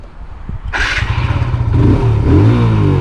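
A 2025 TVS Apache RTR 160 2V motorcycle engine starts up close by and settles into a loud, steady, refined running rumble.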